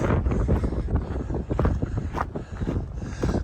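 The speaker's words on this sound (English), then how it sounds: "It's getting a bit breezy." Gusty wind buffets the microphone on an open hillside walk near Pen-y-Ghent in the Yorkshire Dales, a loud continuous roar with rising and falling gusts.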